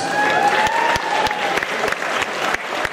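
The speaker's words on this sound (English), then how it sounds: "now face the audience to a big round of applause" An audience at a 2015 NABBA professional bodybuilding class comparison gives a big, steady round of applause, with dense clapping held throughout at close range.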